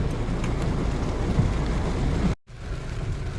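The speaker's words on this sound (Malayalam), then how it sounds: "ഇന്ന് നല്ല മഴയുണ്ട്" Heavy rain pouring down in a steady, dense roar close by, continuing without a break apart from a brief cut near the end.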